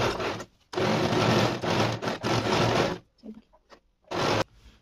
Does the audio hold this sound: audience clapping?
no